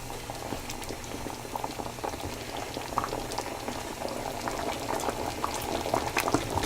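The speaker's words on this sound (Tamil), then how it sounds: "நல்லா கொதிக்குது" A pot of chicken gravy bubbles steadily at a rolling boil, with a dense, continuous crackle and pop of liquid close by and no voices.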